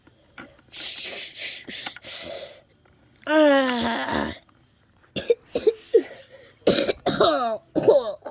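A voice imitates a cartoon diesel locomotive coughing, with several rough, throaty coughs and wheezy, strained bursts separated by short silences, fairly close and unaccompanied.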